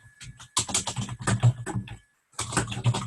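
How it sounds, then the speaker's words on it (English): Keyboard typing in a college setting: a quick run of close, clattering keystrokes that stops briefly, then a second burst of tapping follows. "Because somebody is typing."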